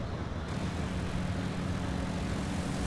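A Diamond DA40 light aircraft climbing out after takeoff in the Flight Sim World game, its piston engine giving a steady, loud, broadband drone that holds constant throughout.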